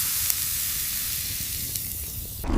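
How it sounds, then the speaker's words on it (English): Meat sizzles over hot coals with fat dripping into the flames, a steady close hiss that runs unbroken before a brief louder burst at the end. "The best cut of meat sizzles over the hot coals,"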